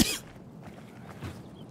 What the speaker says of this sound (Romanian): Scuzați-mi tușitul fabulos